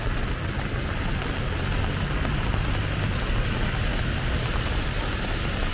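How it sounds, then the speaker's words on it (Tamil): Heavy rain pours down in Dubai as a dense, loud, unbroken hiss of falling water that holds steady throughout. "பலத்த மழை, கடுமழை வந்துட்டு இருக்குது."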